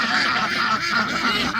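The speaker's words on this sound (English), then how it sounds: "the ducks are yelling" Ducks kept at a backyard pond quack loudly and close by in a quick, overlapping burst of nasal calls, with no talk over them.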